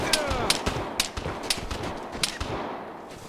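Gunshots ring out in the video game Vigor, a quick series of sharp cracks at roughly half-second intervals, fairly near and loud, fading into quieter noise at the end.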